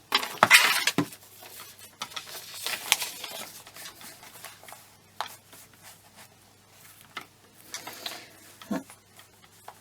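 Straw paper sheets being cut down for a Mr Simpkins & Friends journal kit: a string of soft, close scraping and snipping sounds with light clinks and pauses in between, and no talking.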